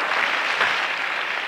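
Church congregation clapping hands together during a sermon, a dense, steady wash of applause filling the room for the whole moment without clear pauses.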